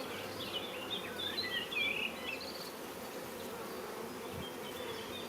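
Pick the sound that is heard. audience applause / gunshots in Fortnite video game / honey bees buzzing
honey bees buzzing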